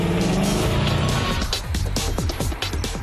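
A high-revving V8 sports car putting out 331 kW drives hard, its engine roaring loud and close with rising and falling revs and sweeping gear-change sweeps, a hint of tire noise mixed in.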